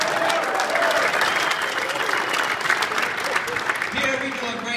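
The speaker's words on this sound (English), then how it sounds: "Give him a round of applause." An audience applauds at a football coach's talk, a dense burst of clapping and crowd noise that stays loud for several seconds before thinning out.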